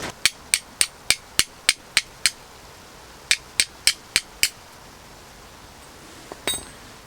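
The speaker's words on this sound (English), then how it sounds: "Let me just show you how my flint and steel works." A bushcraft fire kit's flint and steel is struck in quick, evenly spaced scrapes, a run of eight sharp metallic strikes, a brief pause, then five more, close and crisp against quiet surroundings.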